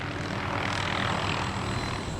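A firefighting helicopter carrying a Bambi water bucket drones steadily close by, its loud, continuous rotor and engine roar filling the whole stretch with no break.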